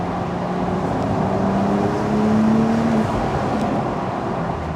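A Porsche 911 Turbo supercar drives on a road, giving a steady, loud engine and road roar with a slight rise in engine pitch partway through.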